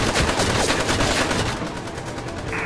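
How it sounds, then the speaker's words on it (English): Rapid bursts of automatic gunfire from the video game GTA 5 during a bank shootout, loud and dense, rattling continuously and then easing slightly, with no speech. "Shots been fired inside!"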